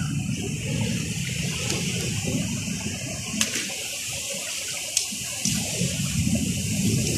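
Strong, steady rushing water fills the whole clip, a continuous churning roar of waves with a few sharp splashes.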